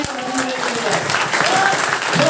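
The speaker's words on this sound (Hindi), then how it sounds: "जोरदार तालियां होनी चाहिए" Loud, continuous applause from an audience at an on-stage recognition of team members, steady clapping that fills the whole moment with some voices mixed in.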